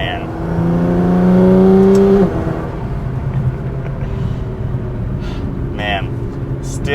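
A 700 HP R35 Nissan GT-R accelerates hard, its engine note climbing in pitch for about two seconds before settling into a loud, sustained, rough roar close by.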